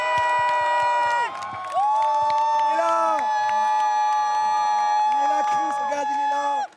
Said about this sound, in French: Est-ce que vous pouvez hurler le plus fort que vous pouvez pour la Dream Team de l'AFM qui a organisé ce Téléthon Gaming?